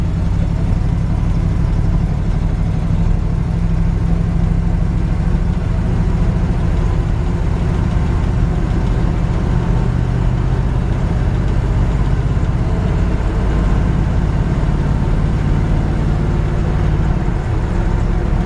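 A 1957 Chevy truck engine idles steadily while warming up just after a cold start, a loud, continuous low rumble with a faint tapping knock from a stuck lifter, running alone without talk.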